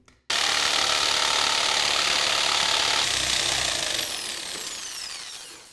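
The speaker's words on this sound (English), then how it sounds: "I use the jigsaw to actually remove the waste" A jigsaw buzzes steadily through plywood for several seconds, a harsh rasping whine that fades slightly as the cut finishes.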